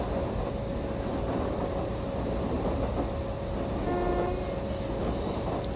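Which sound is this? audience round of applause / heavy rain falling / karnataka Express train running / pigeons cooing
karnataka Express train running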